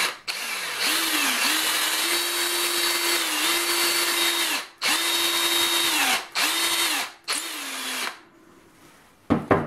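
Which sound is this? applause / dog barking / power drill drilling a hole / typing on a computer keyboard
power drill drilling a hole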